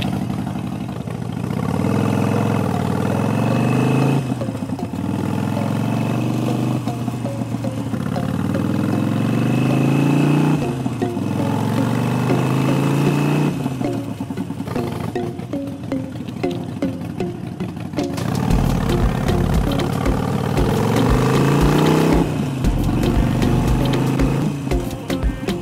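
A 2001 Harley-Davidson Road King motorcycle engine idles steadily and loudly up close, with a deep rumbling throb, a few blips of throttle and some voices in the background.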